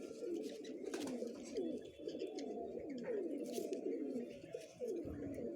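Several Punjabi Malwai pigeons in a loft produce dense, rolling coos that overlap almost without pause, heard up close at a steady level.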